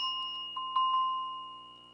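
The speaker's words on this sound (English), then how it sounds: "Did you mean sheep? Yeah, sheep bell." A struck sheep bell rings out with a clear metallic tone, a few quick light taps near the start, then a long ringing decay fading away.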